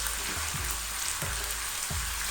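Papaya pieces and curry leaves sautéing in hot oil for a Kerala-style papaya pickle, giving a steady, dense sizzle and crackle with a few soft low thumps of stirring, close up and with no talking.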